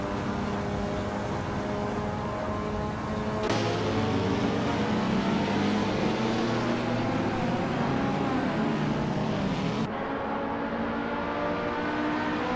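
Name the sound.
race car engine in a racing video game, Lotus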